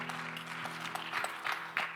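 Congregation at a Korean church youth worship service claps together, quick rhythmic hand claps over a sustained musical tone, moderately loud and continuous.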